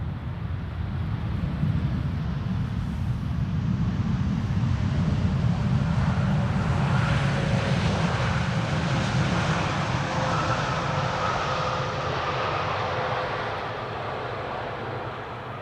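Jet airliner landing on Schiphol's Polderbaan runway 18R, a loud, sustained broadband roar close by that holds steady for about thirteen seconds before easing slightly at the end, with no speech.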